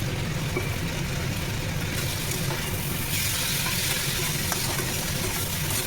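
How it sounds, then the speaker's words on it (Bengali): Prawns stirred into taro stolons frying in a pan, a constant close sizzle and hiss with faint scraping of the stirring, steady and loud with no talking. "একে একে চিংড়ি মাছগুলো মিশিয়ে নেব"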